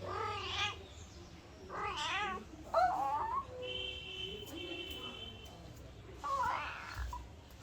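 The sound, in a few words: cat meowing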